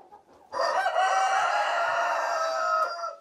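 A rooster near a barn chicken coop lets out one loud, sustained crow lasting about three seconds after a brief soft cluck.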